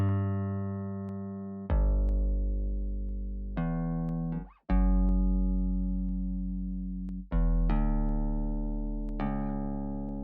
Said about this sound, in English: I'm going to go ahead and play the 808 and the regular bass at the same time